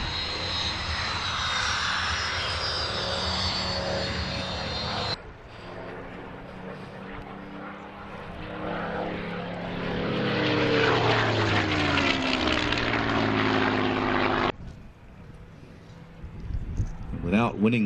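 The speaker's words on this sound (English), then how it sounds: "Spitfire, of course, celebrating its 75th anniversary of its first flight this year" Supermarine Spitfire flying at the 2011 Cotswold Airshow, a loud sustained propeller-engine drone that shifts in pitch as the fighter passes, with a commentator talking over it.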